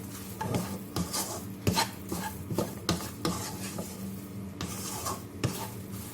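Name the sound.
stirring tomato sauce into fried soya chunks (meal maker)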